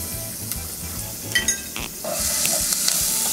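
Vegetables sautéing in oil with Italian seasoning in a freshly rinsed pot, a close sizzle with a few scraping and clinking touches that swells into a brighter, steady hiss partway through.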